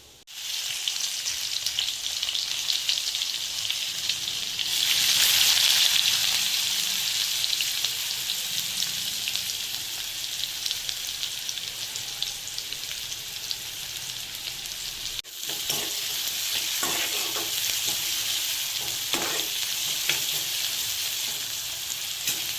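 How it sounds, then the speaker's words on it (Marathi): Chopped onion fries in hot oil with cumin seeds for a fish curry gravy, a loud, continuous close sizzle that dips briefly and then carries on with faint crackles. "कांदा वगैरे भाजायला ठेवला व्यवस्थित मी."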